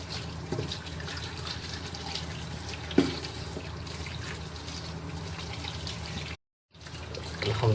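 Tap water runs steadily into a sink as six medium potatoes and four tomatoes are rinsed by hand, a continuous splashing trickle with a brief knock partway through and a short silent gap near the end.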